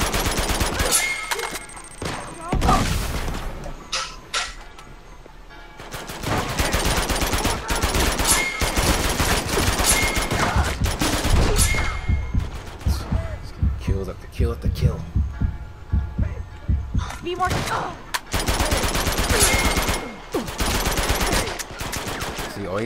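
Gunfire in Uncharted 2: Among Thieves, loud bursts and heavy impacts dominating a dense game mix with low rumbling, near and sustained across most of the stretch with a few brief lulls.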